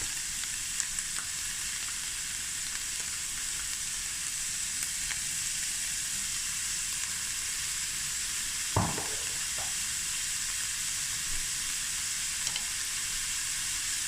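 Chopped large onion fries in a pot, a steady even sizzle throughout, with one sharp knock of a utensil partway through and a few faint taps.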